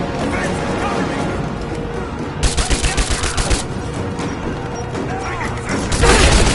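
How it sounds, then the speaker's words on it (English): Gunfire rings out during a firefight in the Rise of the Tomb Raider video game, a rapid burst of loud shots in the middle, with sustained battle noise and shouting voices throughout and another loud burst near the end. "Taking fire!"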